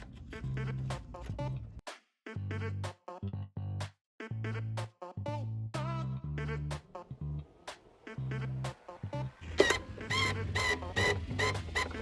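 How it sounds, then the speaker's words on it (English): Wire feed rollers of a MIG welder pushing wire through, heard as a series of close, humming motor bursts that start and stop repeatedly, each lasting under a second, with some rattling toward the end. "every time I press this button, I'm causing those little wire feed rollers to push through"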